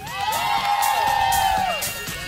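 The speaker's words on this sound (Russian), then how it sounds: "вы, как только себя услышите, сразу кричите, аплодируйте и давайте о себе знать" Spectators at the 2017 Yeysk Cup opening ceremony shouting and cheering as their city is named, a loud crowd roar with a sustained whoop and scattered claps.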